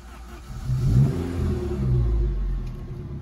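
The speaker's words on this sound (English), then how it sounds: "we'll just show you start up an engine running on this 1993 Saab 900 T16S Ruby" A 1993 Saab 900 T16S Ruby, warm, idles and is given light throttle, its engine note rising and falling in two gentle revs, heard close and alone.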